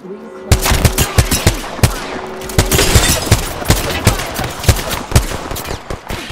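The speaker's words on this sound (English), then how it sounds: "Opening fire." Gunfire in Apex Legends on PS5 rings out loud and close as rapid, sharp shots in a steady automatic rhythm, with occasional brief pauses and layered game effects.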